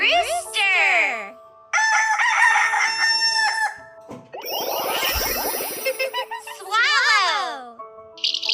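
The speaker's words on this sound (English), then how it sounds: "Rooster!" Close, loud rooster crowing rings out in a drawn-out cock-a-doodle-doo, framed by lively children's voices speaking in short bursts on either side.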